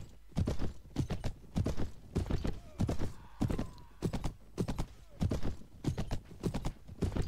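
Horse hooves clip-clop in a rhythmic, fairly loud gallop in the video game Clash of Kings, evenly paced hoofbeats continuing throughout.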